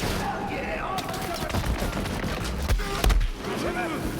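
Shotgun blasts and other gunfire ring out in rapid bursts during Borderlands 3 combat, loud and busy, mixed with game effects while people talk over the action.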